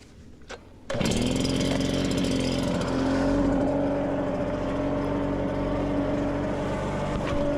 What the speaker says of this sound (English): Let's grab the blower. And this is the Stihl BR